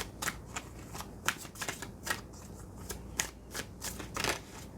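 Tarot cards are shuffled and drawn by hand up close, producing a series of quick papery riffles and flicks in an irregular rhythm, quiet and without talking.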